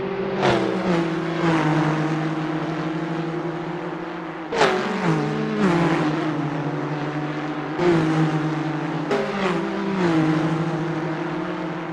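Several 1960s race car engines in Assetto Corsa at the Preluk 1974 circuit roar together, with steady droning harmonics and repeated sharp gear-change dips and revving surges throughout.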